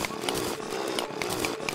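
A drill in the Terraria video game grinds out a continuous buzzing, chainsaw-like whir with regular short chirping pulses layered on top, loud and steady throughout.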